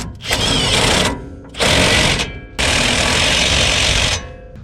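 Three loud bursts from a power impact tool run bolts down on a Chevy C20 front suspension during a frame-swap rebuild, each rattling burst lasting about one to one and a half seconds with short pauses between.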